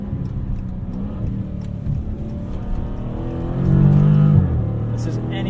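The engine of a 2019 widebody Dodge Challenger R/T Scat Pack pulls from inside the cabin at night, its tone rising and stepping down as the 8-speed transmission shifts, with a voice talking over the drone.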